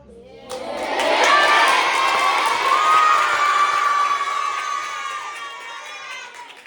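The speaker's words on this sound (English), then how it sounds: "Guys, give us a cheer." A crowd of children at a school assembly cheers and screams loudly all at once, the shout swelling quickly and holding before slowly fading.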